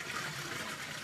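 Toilet flush in the Mafia II video game, an old-style high-tank cistern releasing a steady, close gushing rush of water that fills the short moment without pause.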